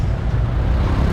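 Buses and road traffic rumbling past on a highway in Cambodia, a loud, close, continuous low roar of engines and tyres without talk.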